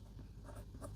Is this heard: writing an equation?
yes